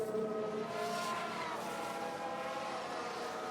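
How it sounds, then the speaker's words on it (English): An F1 car spins out in the racing game F1 Manager 2022, a sustained engine whine with rising and falling tones and a rough, steady roar. "Sounds like we've had a spin."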